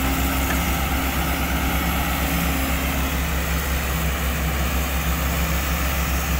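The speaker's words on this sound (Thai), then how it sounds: "ตอนนี้รู้สึกว่าใบพัดนี่จะตีน้ำครับน้ำพุ่งออกจากฝากระโปรง" An engine runs hard while a propeller churns water and water sprays from under the hood, all during a tug-of-war in water. A loud, steady, unbroken drone holds throughout, with no talking.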